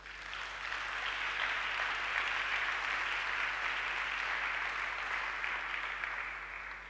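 A church congregation applauds in steady, dense clapping that swells slightly and holds at an even level throughout, with no pauses and no clear voices above it.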